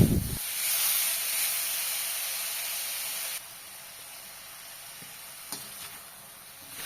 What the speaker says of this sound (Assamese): এনেকৈ হাই ফ্লেমত মই প্ৰায় পোন্ধৰ মিনিটমান সময় মাংসখিনি ভাজি লৈছোঁ